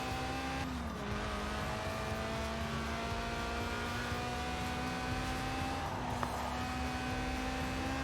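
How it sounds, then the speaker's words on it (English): Lotus Elise Sport 190, a stripped-out, mid-engined, rear-wheel-drive roadster tuned for track days, drives in Forza Horizon 4, its engine holding a steady, continuous drone throughout with a brief shift in pitch near the start. "Right then, the Lotus Elise, a 90s classic based on the age-old roadster recipe"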